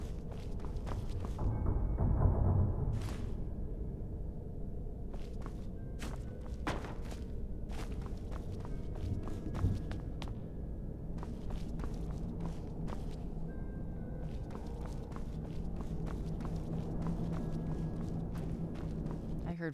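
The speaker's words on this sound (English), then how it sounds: "I heard footsteps." Footsteps in the video game Skyrim, a run of soft repeated thuds and steps with scattered knocks over a constant murky game ambience, continuing throughout at moderate level.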